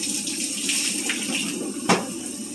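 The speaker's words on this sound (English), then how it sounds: "Rinsing out the cups once again" Cups being rinsed under running water at a sink, a steady close wash of flowing water with a few light clinks and splashes.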